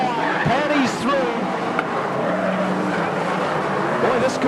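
Sprint cars race on a dirt speedway during the Summer Slam, engines whining and rising in pitch as cars roar past close by, with a commentator talking over the action.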